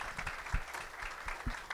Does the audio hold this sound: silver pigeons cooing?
no